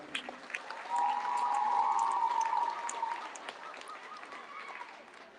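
Audience applause for a middle school volleyball team at an awards celebration, a steady patter of many hands that rises after a second, holds, then gradually tapers off, with faint voices underneath.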